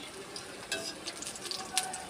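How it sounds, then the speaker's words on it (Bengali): Pointed gourd (potol) frying in a pan, a low steady sizzle with brief louder crackles and spits as the pieces are stirred. "পটলটা ভাজছি"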